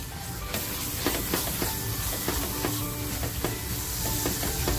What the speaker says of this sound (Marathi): मसाला आहे ना छान असा मी फ्राय करून घेते